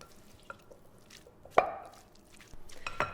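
Tuna salad is stirred in a bowl, with soft, wet squishes and a few sharp spoon knocks, sparse and close, over a quiet background.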